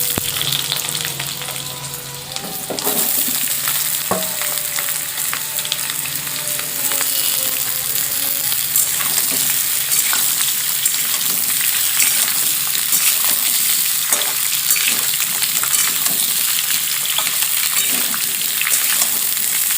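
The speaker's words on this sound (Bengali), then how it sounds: "তেল গরম হয়ে গেছে, আলুগুলো একটু ভেজে নেব।" Potatoes fry in hot oil with a loud, steady, close sizzle that holds for the whole stretch, with occasional scraping and stirring clicks.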